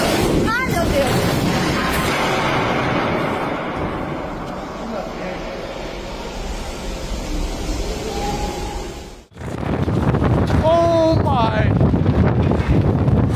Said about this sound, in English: A gust of wind tore a vessel from its mooring and pushed it away from the dock.